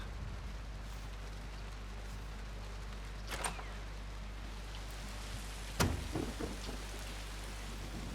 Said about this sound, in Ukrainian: На вулиці дощ.